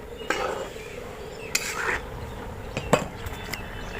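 A metal lid lifted off a cooking pot while making a jaggery pitha, giving a few sharp clinks and scrapes of metal on metal, spaced apart against a steady low kitchen hum.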